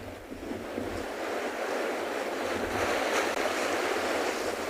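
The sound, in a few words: strong wind by the sea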